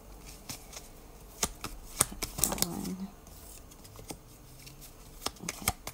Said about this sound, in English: I'm just going to shuffle your cards